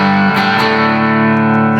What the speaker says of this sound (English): maybe you're playing a Telecaster like I am, you put it on your bridge pickup